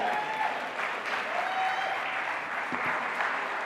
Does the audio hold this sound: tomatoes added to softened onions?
no